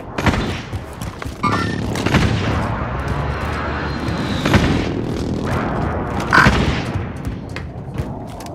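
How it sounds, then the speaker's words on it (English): Heavy booms and rolling blasts from a precision airstrike in Call of Duty Modern Warfare (2019), loud and close, with dense overlapping explosions, rumble and debris layered through the whole stretch and sharper hits near the start and end. "Friendly precision airstrike inbound."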